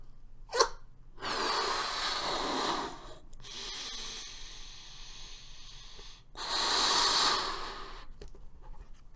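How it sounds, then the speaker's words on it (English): Someone blows up a pink latex balloon by mouth in a series of long, forceful breaths with short gaps between them, close to the microphone. "The first step is just to inflate both of them to roughly the same size."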